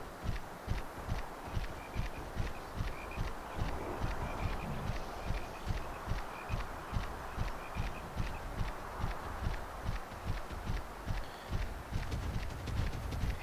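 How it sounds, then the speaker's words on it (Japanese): Herbivore monsters in the Monster Hunter Stories video game walk with a steady, repeating clip-clop of hooved footsteps, and short duck-like cries sound now and then over the pattern. The steps continue without a break and no one talks. "草食モンスターたちの足音と鳴き声しか聞こえない。"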